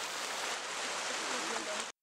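Waterfall cascades pour in a steady, full rush of hissing water that is loud and unbroken, with a faint voice near the end before it cuts off abruptly.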